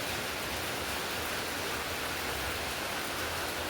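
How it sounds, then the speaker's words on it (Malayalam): Heavy rain falls in an even, dense roar that fills the whole stretch without pause, with no voices. "മഴയോട് മഴയാണ്"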